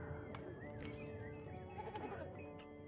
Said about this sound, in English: Is that a goat?